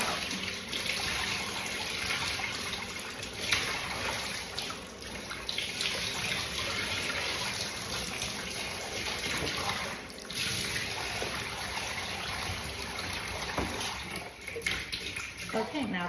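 Water runs steadily from a tap while a human hair wig is rinsed of soap, a constant close rushing spray with slight splashing variations throughout, and a voice talking over it.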